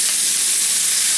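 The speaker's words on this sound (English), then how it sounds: "And we gonna dump in these peppers. The onion, ginger," Hatch peppers, onion and ginger hit a hot oiled wok with a loud, steady, hissing sizzle that holds unbroken and close throughout, with no voices.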